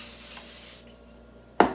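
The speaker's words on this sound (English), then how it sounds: "Spray." Cooking spray hisses into a crock pot in a short burst that trails off, followed by a sharp clatter at the end.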